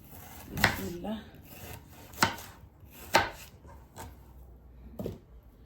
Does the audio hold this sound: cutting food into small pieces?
yes